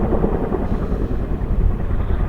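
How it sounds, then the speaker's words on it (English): A helicopter hovers close by above a mountain touge road, its steady rotor thrum and low engine rumble filling the air continuously and loudly, with no one talking. "whatever the helicopter is doing to pick up from there and then going down there"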